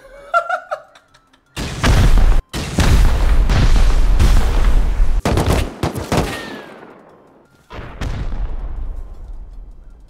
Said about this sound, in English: They're going to 8 rocket it.